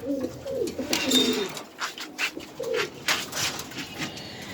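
Pigeons at a pigeon farm coo in soft, repeated throaty phrases close by, mingled with faint background chatter and rustling.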